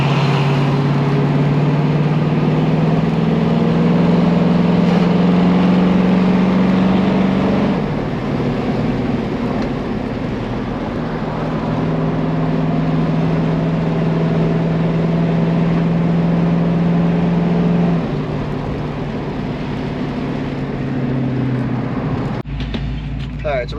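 A 1969 Ford Mustang Fastback with an automatic transmission drives along, its engine giving a steady low drone that shifts pitch a few times as it changes gear, loud and close under faint talk.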